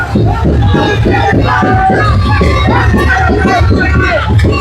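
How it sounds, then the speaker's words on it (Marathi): A large crowd shouts and cheers without pause at a village palanquin procession for the goddess Raibadevi, loud, dense and close, with many voices merging into a continuous roar. "लो जल्लोष बघताय फुल जल्लोष आणि सोबत त्यांचा क्राऊड पण फुल आहे जबरदस्त क्राऊड आहे"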